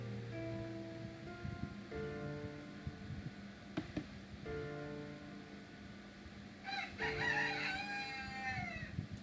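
A video-game rooster from Titanic Mystery on Nintendo DS crows in repeated stepped calls over background game music, with a bright, loud crow toward the end.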